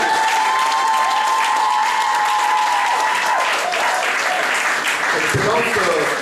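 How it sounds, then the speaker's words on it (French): Guests at a wedding ceremony in the commune of Kanda stand and applaud, a dense, loud, continuous wash of clapping from a large crowd with a voice and some tonal sound over it. "Levez-vous et applaudissez pour elle."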